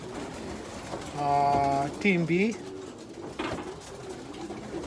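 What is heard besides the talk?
young pigeons cooing in loft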